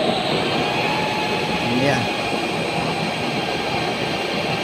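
An electric blower fans a cooking fire under a pot of boiling rice, giving a steady, loud, broadband rushing roar that runs the full length with no break. A voice speaks briefly over it.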